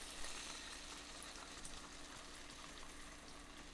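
Beef broth pours steadily into a pan of frying noodle-dish ingredients, a soft continuous wash of liquid with faint sizzling beneath, quiet and close with no talking.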